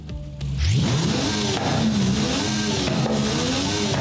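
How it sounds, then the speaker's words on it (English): Loud, close engine revving from an upgraded Mercedes-AMG One in Forza Horizon 5, climbing quickly then swinging up and down in pitch, sustained without any voices. "And as you can hear, the revs go a lot higher."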